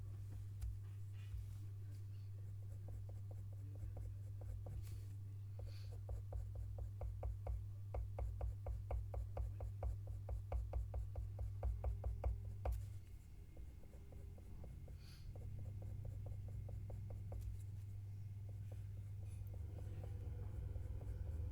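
A pencil sketches the nose of a fox portrait on paper, making soft rhythmic scratching strokes that come in quick repeated runs through the middle, faint and close over a constant low hum.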